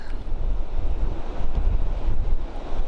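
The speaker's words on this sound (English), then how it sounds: "So far the whole time we've been here it's been pretty windy." Steady, blustery coastal wind at Margaret River, Australia roars across the microphone, with a broad rush that may include surf in the background; no voices.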